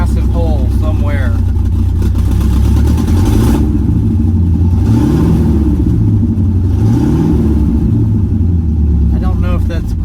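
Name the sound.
V8 project car engine starting up and revving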